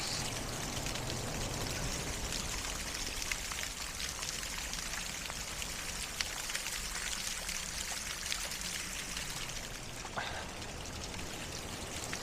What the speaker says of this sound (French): c'est normal, c'est une cascade